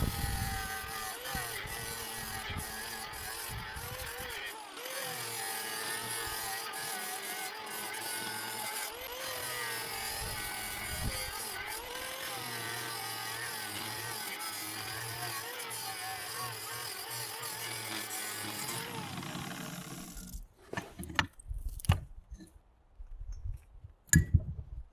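A power tool grinds and cuts through the metal casing of a sealed unit to reach the stator, a loud continuous rasping whine for about twenty seconds, then stopping into scattered knocks and clanks.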